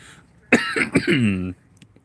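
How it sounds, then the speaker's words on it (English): A person coughs a couple of times close to the microphone, with a throaty vocal sound trailing after, then quiet. "Pardon the cough."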